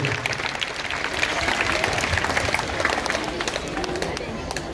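An audience applauds at the end of a presidential speech at a school function, a dense, steady burst of many hands clapping at close range for several seconds.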